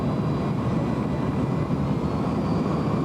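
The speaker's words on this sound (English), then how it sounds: "The wheels are going down. The wings are going out." A 1987 airliner cabin on approach with landing gear and flaps extending, heard as a steady, loud broadband roar of engine and airflow that holds without a break throughout.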